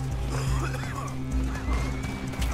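A horse neighing in the Western video game Red Dead Redemption 2, a loud whinny with clip-clopping hooves underneath, set against game ambience and a low continuous rumble, with a voice faintly present.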